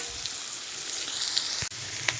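Fried potatoes tipped into a banana flower dish in a hot pan, sizzling in a continuous bright crackle with a few popping spits and one brief scrape, close and fairly loud, no voices.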